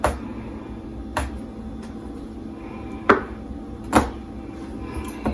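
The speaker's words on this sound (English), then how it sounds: "Start getting it chopped up for the salsa" Fresh tomatoes chopped on a board for salsa, five sharp knife knocks at an uneven, unhurried pace, close and distinct over quiet background.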